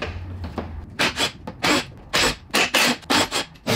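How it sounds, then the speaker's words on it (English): A plastic trim piece is pried off the bumper of a BMW E60, giving a run of short scraping, rubbing bursts in an uneven rhythm, close and fairly loud. "So let's pop this trim piece off."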